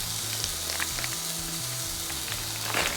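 Beef mince searing in a hot pan, a steady close sizzle and crackle of frying meat running throughout with no talk.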